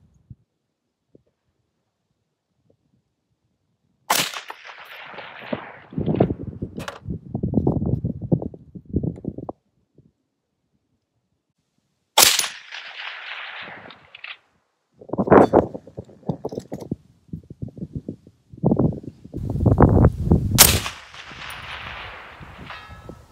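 An IWI Tavor 7 bullpup rifle in .308 firing cheap military ammunition at a 500-yard target outdoors in wind: four loud, sharp shots spaced several seconds apart, each trailing into a long rumbling echo, with quiet gaps between.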